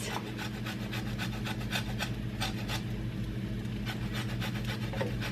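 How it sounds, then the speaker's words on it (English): Lemon zest shaved on a grater in rhythmic rasping strokes, close and steady, about a dozen scrapes in quick succession with no talking. "So I'm just going to shave off some of that zest."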